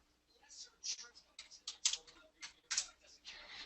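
Keyboard keys tapped in short irregular bursts, close and fairly quiet, with a soft steady hum beneath.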